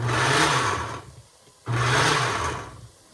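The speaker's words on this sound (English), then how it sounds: "You're going to put that cooked broccoli, steamed, into your blender. And you're going to blend that until it's a creamy mixture." A kitchen blender purees steamed broccoli into a creamy mixture for cream of broccoli soup, whirring in two loud bursts of about a second each with a brief pause between, close and alone.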